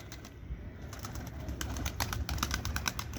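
Young pigeons in a loft coo softly, with repeated low burbling calls and soft flutters under light background noise.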